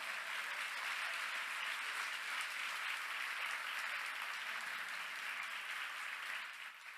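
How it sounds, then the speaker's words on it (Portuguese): Sustained applause from a church congregation, steady and full throughout, tapering slightly at the very end. "Vamos dar um forte aplauso ao Senhor."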